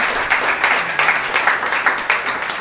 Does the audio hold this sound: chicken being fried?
no